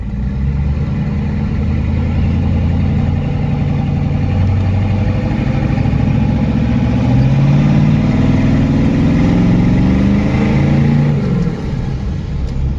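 A tuned twin-turbo 6.5 diesel truck engine runs steadily and loudly at close range, a dense low rumble with shifting harmonic tones as it revs slightly, with no talking over it.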